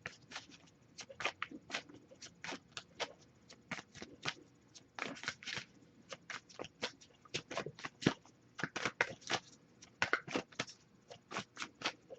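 Crisp bursts of tarot cards being shuffled, quiet and close, repeated in irregular flurries with short pauses between.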